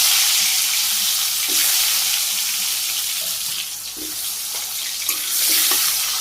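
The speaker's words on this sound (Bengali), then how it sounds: "তেল গরম হয়ে গেছে, আলু দিয়ে দিই।" Potatoes dropped into hot oil for village-style frying, a loud continuous close hiss and sizzle with a few faint clinks, no talking.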